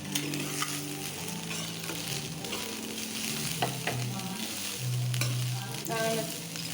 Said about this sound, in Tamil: இப்போ சாதத்தை இதில் போட்டு அடுப்பை சிம்மில் வச்சுட்டு சாதத்தை போட்டு அதிலே கிளறிக்கணும்